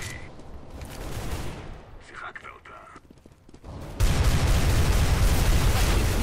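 Gunfire in Counter-Strike: Global Offensive: scattered shots and rattling bursts early on, then a loud, dense barrage that sets in suddenly and holds to the end.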